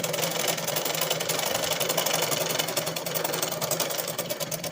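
A sewing machine stitches a blouse sleeve, running as a steady, continuous rapid whir at close range for the whole stretch, with no voices over it.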